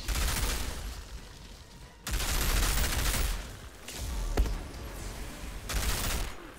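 Video-game gunfire from blighted rounds comes in dense bursts of rapid shots, loud and continuous, with brief lulls between volleys and a sharp crack in the middle.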